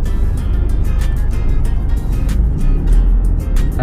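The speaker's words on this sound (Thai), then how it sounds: "ก็มาเจอรถติดอยู่ตรงนี้นะครับ" Cars sit in a traffic jam on a Bangkok road on the Thonburi side, a loud steady engine drone with low rumble, close by and continuous, with no voices.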